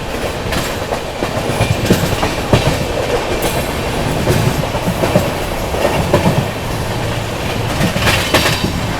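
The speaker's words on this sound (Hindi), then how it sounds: "यहाँ पर स्किप कर दिया अपनी ट्रेन ने रानी कमलापति रेलवे स्टेशन को" Rajdhani Express train running at high speed at night near Rani Kamlapati station, loud rushing roar with rapid clickety-clack of wheels over rail joints and brief squeals, continuous throughout with no talk.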